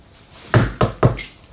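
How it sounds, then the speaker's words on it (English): Three quick, sharp knocks on wood, close and distinct, with a short pause after the first and nearly silent surroundings. "Knocking on wood."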